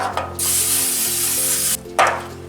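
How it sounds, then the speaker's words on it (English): Nonstick cooking spray hissing onto a baking dish before assembling a freezer casserole: one long, steady, close-up aerosol burst, a brief gap, then a second shorter spray over a low background hum. "I'm going to be sure to spray this really well with my nonstick spray"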